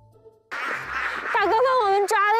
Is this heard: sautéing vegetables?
no